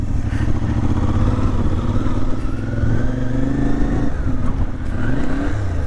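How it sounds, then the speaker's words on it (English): A CFMoto 450MT motorcycle rides along loudly and close, its engine droning steadily, then the revs rise and fall unevenly around a fumbled missed gear shift before pulling again. "missed a gear"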